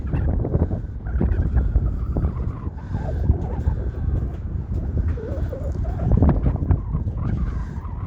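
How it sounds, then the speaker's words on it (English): Gusty wind roars across the microphone on a seaside pier at extremely low tide, a steady low rumbling buffet with surging peaks throughout, no clear speech over it. "It's getting a bit of that wind now, aren't we?"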